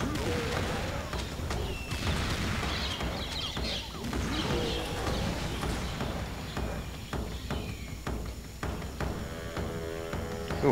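Grenade blasts and gunfire in the Serious Sam 2 video game, dense repeated booms and crackling shots layered over music and battle noise, loud and continuous throughout.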